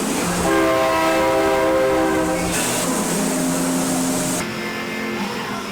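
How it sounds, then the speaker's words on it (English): A train rolls past with a loud, sustained horn blast and a continuous rumbling of wheels, the horn shifting pitch before cutting off. "Is that a train I hear coming?"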